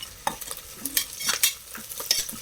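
Chopped onion, fenugreek leaves and mint leaves fry in a pan for chicken biryani, with close sizzling and short scraping stir strokes over about two seconds and no talking.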